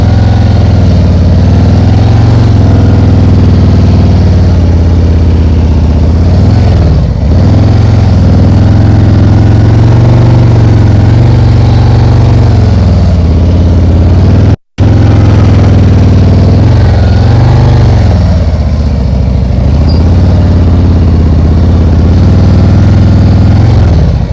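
A motorcycle engine putters steadily in first gear during slow-speed riding practice around cones, a loud low-pitched drone with gentle rises and dips in revs and a brief dropout midway.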